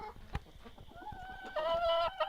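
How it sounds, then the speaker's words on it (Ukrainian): A few backyard hens cluck and chatter close by, with a brief sharp sound near the start and a louder, sustained run of clucking toward the end. "Ну, таке у нас пташине царство. Невеличке, декілька курочок."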